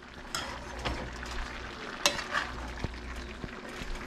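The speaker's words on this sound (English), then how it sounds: "Yeah, we'll stir it up." Moose stir fry being stirred in a pan, a steady close sizzle and fry broken by scraping and light knocks of the utensil against the cookware.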